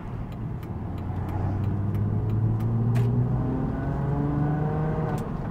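A 2000 VW New Beetle RSI accelerates hard to overtake, its engine note climbing steadily and loud from inside the cabin, with road rumble underneath.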